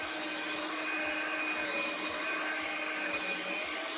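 A Hoover Linx cordless stick vacuum runs steadily indoors, its motor whine holding level while rhythmic low thumps repeat as it is pushed and pulled over dirt.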